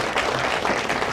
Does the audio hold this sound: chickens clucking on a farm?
no